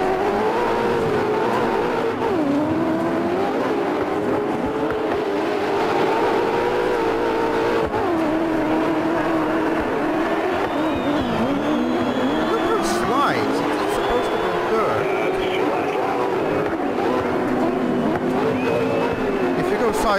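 A rally car in the DiRT 4 racing game revs and slides continuously, its engine pitch rising and falling through gear changes, while someone talks over it.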